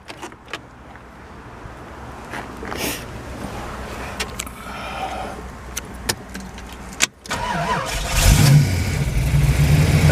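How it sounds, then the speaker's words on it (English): A 1934 Ford Tudor hot rod with a tight, well-kept motor: a few scattered clicks and mechanical taps, a brief hush, then the engine cranks and catches and settles into a loud, close, steady rumbling idle to the end. "We'll go ahead and fire this one up for you."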